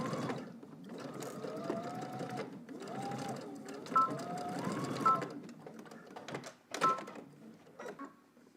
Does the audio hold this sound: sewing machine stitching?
yes